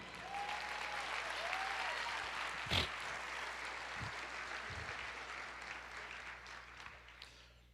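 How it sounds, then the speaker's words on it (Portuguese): A church congregation applauds at the close of a sermon, steady broadband clapping that holds across the whole stretch with one sharper burst partway through, no talk over it. "aplauda o Senhor"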